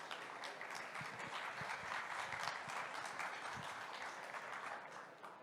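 Audience at a packaging industry summit presentation applauds, a steady wash of clapping heard faintly and at a distance, holding evenly for several seconds before tapering off.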